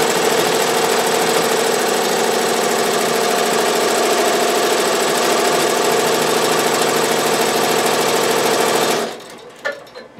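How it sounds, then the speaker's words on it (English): Avancé embroidery sewing machine stitching a design at a slow, steady rapid clatter, loud and close, running continuously for about nine seconds before stopping abruptly. "And now I'm going to hold the start button and sew slowly"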